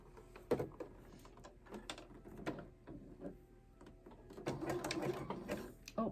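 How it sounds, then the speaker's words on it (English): Sewing machine sewing an ironing board cover shut, several short runs of mechanical stitching with quiet gaps between them and a longer run near the end. "And now we're just going to sew that shut."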